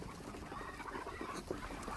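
Chinese ducks on a duck farm, a dense chorus of quacking and honking calls close by, steady over a short stretch with no speech.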